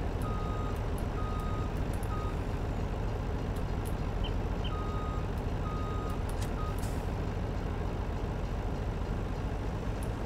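A truck in Farming Simulator 19 hooks up to a semi-trailer while its reversing alarm beeps steadily in short, evenly spaced tones over a constant engine drone.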